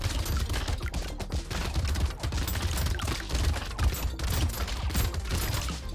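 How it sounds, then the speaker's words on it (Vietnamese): Continuous dense crackle of rapid shots and projectiles in the arena game Brotato, a busy steady stream of overlapping small bursts with no talking. "bắt đầu nó bắn đạn này"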